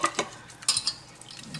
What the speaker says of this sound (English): hopefully get that paste all mixed in with the milk